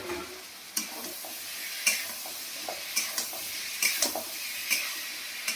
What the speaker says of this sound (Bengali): এরপরে আমি আলুগুলো দিয়ে দেবো একে একে।